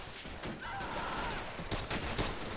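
Massed rifle fire from troops dug in by a trench in a large paratrooper hill-assault battle game, steady crackling volleys with sharp individual cracks throughout, fairly close and continuous.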